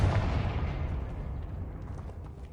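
A Confringo blasting spell explosion in Hogwarts Legacy, a loud close burst at the start whose deep rumble fades steadily over a couple of seconds.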